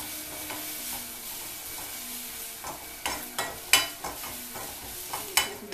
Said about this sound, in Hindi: ये अदरक भी कद्दूकस की हुई है, इसको हम 1-2 मिनट भूनेंगे।